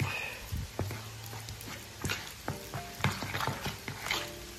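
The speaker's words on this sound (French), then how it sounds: "on va mélanger tout ça à la fourchette en attendant que nos petits lardons cuisent" Small lardons frying in a pan while a fork stirs and mixes them, quiet sizzling with light scraping and tapping of the fork against the pan.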